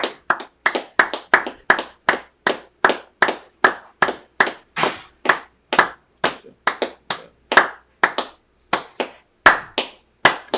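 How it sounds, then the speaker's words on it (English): People clap their hands at a Sabbath service, a loud, close, steady run of about thirty rhythmic claps that fills the whole stretch with no talk. "Stop clapping."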